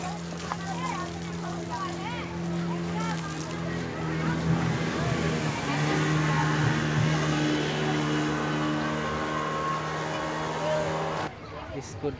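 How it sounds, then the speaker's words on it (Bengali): Speedboat passing by near lakeside cottages at a park, engine drone rising to a peak midway and easing off, with water wash and a voice talking over it. "স্পিড বোট ছুটে চলে গেল।"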